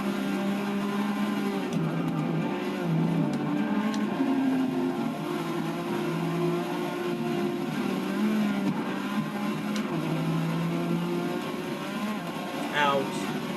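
A Porsche race car engine in Forza 6 drones steadily and loudly, its pitch stepping up and down as the car cruises through a race.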